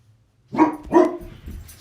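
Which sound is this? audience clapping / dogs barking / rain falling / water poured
dogs barking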